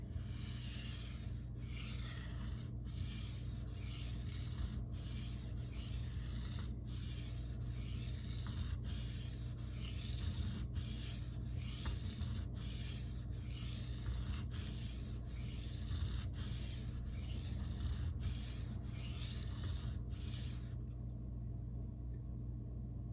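Knife edge drawn by hand across a Shapton Glass whetstone while working the recurve to raise a burr, a steady run of rhythmic abrasive rasping strokes, close and even, continuing for about twenty seconds before stopping.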